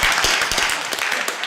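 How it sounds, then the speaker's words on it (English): An audience claps in a theatre, giving a brief burst of dense, close applause with many overlapping hand claps. "Let's give a round of applause to our two combatants"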